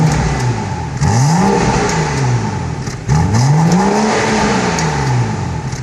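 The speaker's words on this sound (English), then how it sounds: "exhaust and the engine sound off a brand new BMW 435 Convertible" BMW 435i M Sport convertible, new and well optioned, revving its exhaust in two loud blips that climb sharply and fall back, over a steady idle rumble, close by with no talk.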